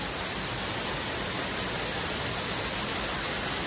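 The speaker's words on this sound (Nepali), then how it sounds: "मन्दिरको झरना हो है गाइस" The waterfall at Kageshwori temple, a dense, unbroken roar of falling water, loud and constant from start to finish, with no voices or other sounds above it.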